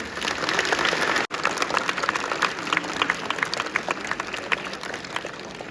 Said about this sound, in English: appreciate their teachers by clapping very loudly for them